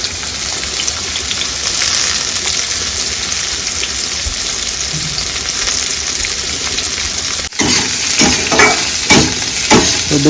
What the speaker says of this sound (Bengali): আমি দিয়ে দিচ্ছি তেলে, তেলটা গরম হয়ে গেছে